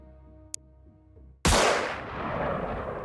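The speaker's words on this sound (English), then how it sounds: "if we put our sniper here, he might be able to get a snapshot off still" Sniper gunfire in the video game Xenonauts: a single loud, sharp shot bursting in after a soft tone and small click, then a long rumbling decay.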